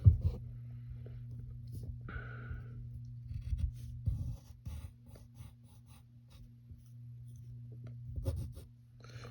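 Pencil drawing shapes on paper for a Marvel Thor sketch, soft scratchy strokes coming in short bursts over a steady low hum, close and fairly quiet.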